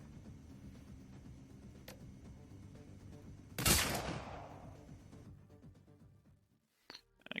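Gunfire in the video game Shadowrun: Dragonfall: one loud burst that decays over a couple of seconds, set against a steady low game backdrop that fades out near the end.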